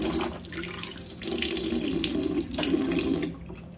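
Tap water runs steadily into a sink during washing of the face, hands and feet, a loud, close, continuous splashing stream that cuts off just before the end.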